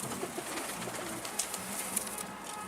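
Soft, low pigeon cooing in a quiet setting, faint and a little distant, with a few light chirps over a gentle background hiss.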